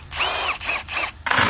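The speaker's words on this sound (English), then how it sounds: "I'm gonna go take all these 13 millimeter studs off for the valve body cover." Power tool spinning off 13 millimeter studs from a Ford 8F35 transmission valve body cover, several short whirring bursts with rising and falling pitch, close and loud, separated by brief pauses.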